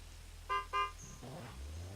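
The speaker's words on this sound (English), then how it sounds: "just honk when ready" Two short, loud car horn honks in quick succession at a drag racing qualifying event, followed by the low rumble of an engine starting to rev.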